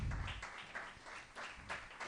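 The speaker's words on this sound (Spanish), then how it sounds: "Démosle un aplauso al Señor por la vida de ella" Church congregation applauding, with a quiet, dense patter of clapping that swells in several bursts and sounds distant and faint.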